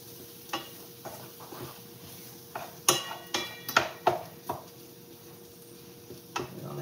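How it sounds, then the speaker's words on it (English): Sausage and spaghetti squash in a pan, with soft cooking sizzle under a run of sharp clinks and scrapes from utensils against the pan, several of them bunched together in the middle. "Simmer a little bit more. Let it simmer."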